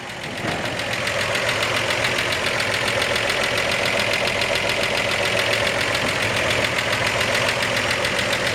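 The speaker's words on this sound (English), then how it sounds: "I wanted to at least make sure you guys heard the engine running." A 1950 Chevrolet 3100 shortbed pickup truck's engine idles steadily up close, with a continuous, even, slightly knocking mechanical rumble that holds for the whole stretch and has no voices over it.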